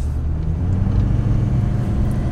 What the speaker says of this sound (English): obviously the truck's a little bit louder, but it's louder really on like the lower RPM range